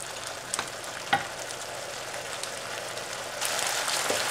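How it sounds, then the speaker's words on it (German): Water simmering and sizzling in a frying pan with broccoli and buckwheat, a steady hiss with a few soft clicks and pops, growing slightly louder near the end, with no voices. "Und dann gebt ihr einfach 100 ml Wasser in die Pfanne und lasst es erstmal ein bisschen einkochen."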